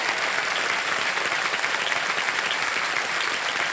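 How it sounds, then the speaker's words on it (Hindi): Studio audience on the KBC quiz show breaks into loud, sustained applause, a dense steady wash of clapping from start to finish with no talk over it. "एक बार जोरदार उनके लिए भी तालियां बज जाए।"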